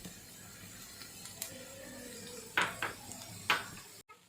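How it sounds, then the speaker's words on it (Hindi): A metal spoon mixes boiled macaroni with cabbage and capsicum in a dish. Several sharp clinks ring out against the dish in the quiet second half, over a faint background hum, with no talking. "फिर चम्मच लाया, अच्छे से मिक्स किया आपस में इनको"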